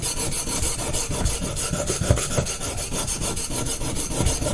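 A Baryonyx American Mutt knife blade scrapes across a sharpening stone in continuous rough rasping strokes, close and steady, with no talking.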